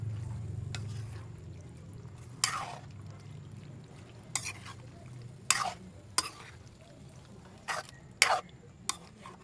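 Adobong balon balonan cooks in a pan while it is stirred, a soft low sizzle underneath with sporadic sharp scrapes and clinks of the utensil against the pan.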